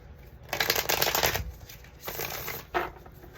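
Tarot cards are shuffled up close in a quiet room, with a few quick riffling bursts separated by short pauses.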